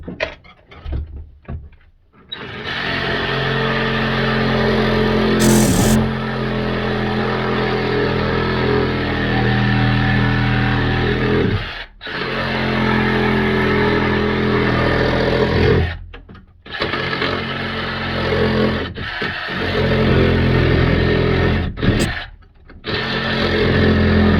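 A power tool cuts a port window opening in the hull of a Santana 28 sailboat, with a loud, steady buzzing drone running in long stretches that break off briefly several times before starting again.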